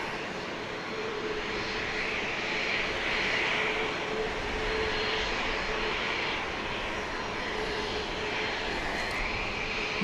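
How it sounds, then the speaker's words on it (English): Boeing 737-700 jet arriving at Dallas Love Field at night, a continuous broad engine roar at moderate distance, steady and unbroken throughout. "Flight 656, a 737-700 arriving from"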